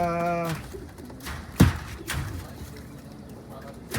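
Soft racing pigeon coos come and go alongside a brief whistled tone at the start, a sharp knock, and some faint background voices, as birds return home.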